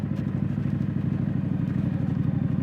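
A street scrambler motorcycle ridden off-road, its engine giving a steady, close, throbbing mid-pitched drone with a regular pulsing beat and no speech.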